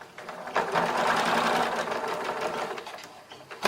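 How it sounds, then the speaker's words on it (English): Sewing machine stitching fabric slowly around a curve, a steady close mechanical whirring with a fast rapid needle rhythm that runs continuously for a few seconds, with a light click at the start and end. "Sew around the curve slowly, because we want to have perfect cheeks."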